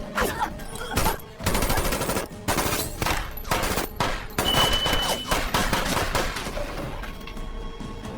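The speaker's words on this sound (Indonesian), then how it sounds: "Ia menjadi korban peluru nyasar dalam duel barusan dan akhirnya Miyeon pun tewas" Rapid bursts of gunfire during a duel in a hitman action film, loud and close, with dense automatic volleys and short gaps between them.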